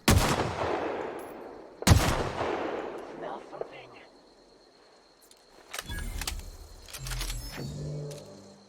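A gun firing in The Outer Worlds, with two loud, close shots about two seconds apart that each trail into a long, fading echo, followed by quieter clatter and muffled sounds.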